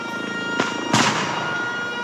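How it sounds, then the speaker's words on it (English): Two sharp bursts, one fairly faint and a louder one just after, over a steady droning background, like fireworks popping in The Henry Stickmin Collection video game. "Like a firework."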